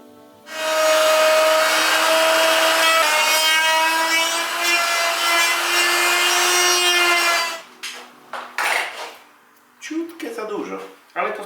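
A sintered carbide milling cutter machines aluminium on a budget setup, cutting through screws as well. It gives a loud, sustained, ringing whine for several seconds, followed by shorter scraping and grinding bursts as the cut eases off.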